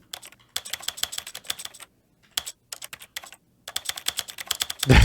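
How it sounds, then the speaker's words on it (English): Keyboard arrow keys pressed while playing The Stanley Parable, quick close clicky taps in rapid bursts separated by brief pauses, ending with a louder thump. "You have to use the arrow keys"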